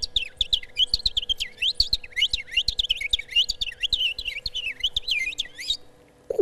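A man imitates morning birdsong with his voice, producing a rapid, continuous run of high chirps and trills over a faint steady hum, ending abruptly.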